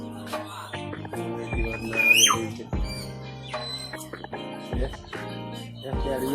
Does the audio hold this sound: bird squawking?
yes